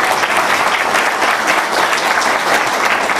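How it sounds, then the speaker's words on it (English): Dense, even applause from the audience at a community forum meeting for the actors, a steady wash of many hands clapping close by for a few seconds with no voices over it. "And so the actors, I think they deserve a quick little round of applause."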